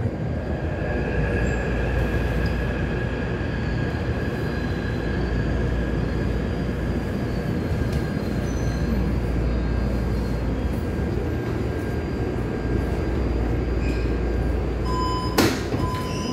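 Taipei Metro C371 steel-wheel train on the Songshan–Xindian line at Songshan station: a steady, loud rumble and hum of the running train with faint tonal whines, and a sharp brief clank near the end.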